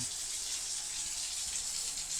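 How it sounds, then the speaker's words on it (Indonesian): Tap water from a gas water heater, set low at 30 degrees, runs at full flow, making a steady close rushing hiss throughout with no pauses. "keran saya buka penuh"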